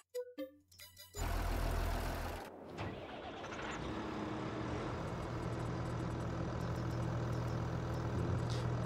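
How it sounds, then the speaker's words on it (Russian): A diesel tractor engine in Farming Simulator 22 starts up and settles into a loud, steady rumbling idle after a few short clicks. "Звук дизелька приятный, конечно"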